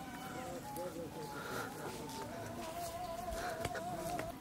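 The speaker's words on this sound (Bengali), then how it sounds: "এখান থেকে আমি এখন হাঁস গুলা খেতে তুলবো।" Ducks call in a farmyard setting, soft quacking and clucking close by, mixed in with a person's voice calling out to them.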